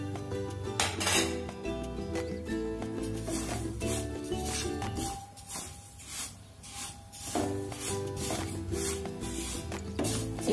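Sesame seeds roasting on high flame in a kadhai, stirred with a metal spoon: continuous scraping and light clinking against the pan, close, under steady background music.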